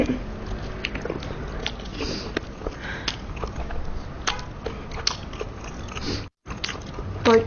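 Biting and chewing during a one-bite eating challenge, close crunchy bites and mouth sounds repeating steadily throughout with a brief dropout near the end.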